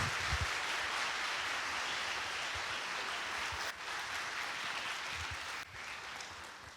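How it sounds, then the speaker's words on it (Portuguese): A large audience at a COP 30 themed event in São Paulo applauds a speaker, a steady wash of clapping at moderate volume that fills the space without pause. "os aplausos para Maria Silva Leandro Campos"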